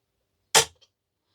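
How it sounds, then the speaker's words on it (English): A single sharp, close shot from a Daystate Blackwolf air rifle as the trigger is pulled, a crisp crack from silence with a brief faint click just after. "Then we can pull the trigger."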